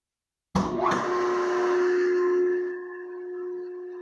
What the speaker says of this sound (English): Our idler motor is running.